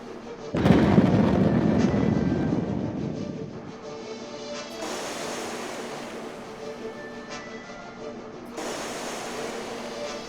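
A torpedo fires and explodes in the post-apocalyptic RPG ATOM RPG: Trudograd, a loud low boom that rolls off into a long rumbling tail, followed by further swelling waves of noise.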